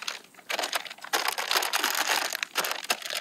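Packaging of an And1 Hydrogrip basketball is handled and opened nearby, with loud bursts of crinkling and crackling plastic coming in uneven, stop-start rustles.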